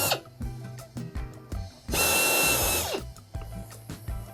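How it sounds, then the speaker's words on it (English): A power drill bores a pilot hole in the body of a Ford Crown Victoria, one loud, steady whining burst of about a second near the middle, framed by lighter clicks and handling knocks. "Pilot hole drilled."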